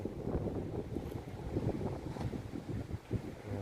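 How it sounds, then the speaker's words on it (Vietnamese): Wind gusts steadily across the Khau Pha mountain pass in Yen Bai, a continuous low rumbling buffet against the microphone with no voices. "Đến đây gió thổi vù nghe nó rất là mát"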